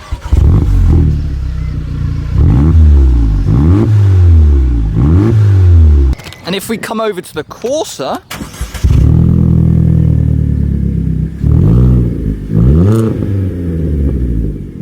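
Two cars, a Corsa and a Scirocco, rev loudly in bursts, deep exhaust roars rising and falling, with a person speaking briefly over them midway.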